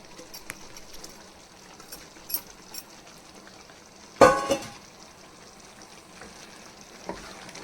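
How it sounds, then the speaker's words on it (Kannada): Fried paneer dropped into a pan of boiling gravy at home, giving a single sudden splash and sizzle over a soft ongoing simmer, with faint clinks before and after. "ಈ ಥರ ಬಾಯ್ಲ್ಡ್ ಆಗುವಾಗ ಫ್ರೈ ಮಾಡಿ ಇಟ್ಕೊಂಡಿರೋ ಪನ್ನೀರು ಹಾಕ್ಕೋಬೇಕು."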